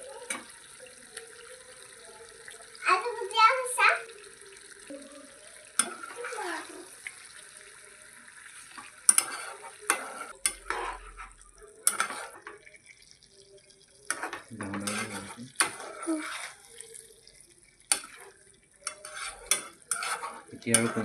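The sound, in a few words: stirring duck curry with ash gourd in pan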